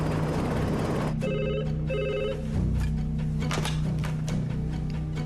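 An old telephone bell rings in two clear bursts, loud and close, then stops as the receiver is picked up, leaving clicks and a steady low hum.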